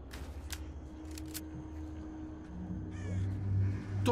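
Crows caw in STALKER: Call of Pripyat, a few harsh calls at moderate distance over a low rumbling ambience, with scattered clicks and rustles.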